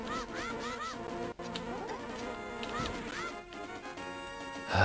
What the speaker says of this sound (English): Why did it have to be bees?